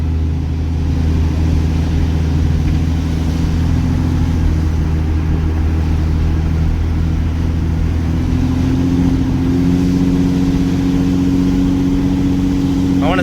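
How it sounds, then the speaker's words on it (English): A red dually truck with a built 48RE transmission runs on its first drive, a loud, steady low engine drone with a rising tone as it pulls through the gears, and road rumble inside the cab. "But first drive, we're in about 3rd, 4th right now,"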